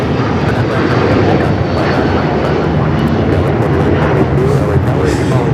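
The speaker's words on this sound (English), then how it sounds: "This is United Airlines 1635 taking off to Washington Dulles on the 757-300" A United Airlines Boeing 757-300 takes off from LAX with a broad, steady roar of jet engines, loud and sustained throughout.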